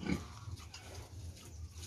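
Two slow-growing, stunted pigs on a farm, low grunts and snuffling close by, fairly quiet and continuous with some brief louder snorts, no talking.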